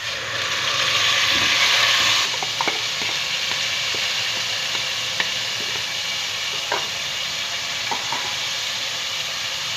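Onions sizzle steadily in a hot pan as they fry golden brown for chicken and chickpea curry, with scattered clinks and scrapes of a spoon stirring through the continuous frying hiss.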